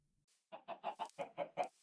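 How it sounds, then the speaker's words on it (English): Chickens cluck in Minecraft in a rapid run of about seven short, evenly spaced clucks, close and clear, with no talk over them. "I wrangled some chickens together."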